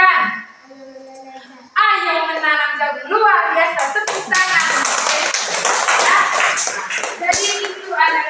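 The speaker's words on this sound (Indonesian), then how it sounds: "Luar biasa, tepuk tangan." A classroom of children claps after a correct answer, a burst of hand claps and shuffling rising suddenly and continuing loudly, following a stretch of singing or speech.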